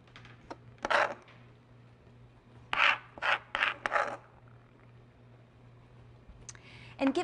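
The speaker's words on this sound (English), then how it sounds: "cutting herbs into thin ribbons like this is called chiffonade" A knife cuts basil into chiffonade ribbons in short, crisp rasping strokes, with one burst, then a quick cluster of four, then another pair after a quiet pause.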